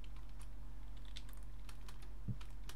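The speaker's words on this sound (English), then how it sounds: "I'm typing in Discord because we want Andrew Dalton on here" Light keyboard typing in Discord, a few scattered clicks and keystrokes, quiet and close over a low steady hum, with no voices.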